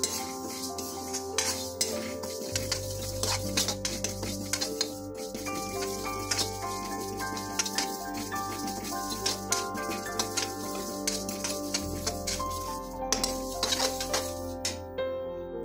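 Moong dal dry-roasting in a hot kadai on a low flame, heard as steady metallic scraping and clinking of a spoon against the pan with a low background hum throughout.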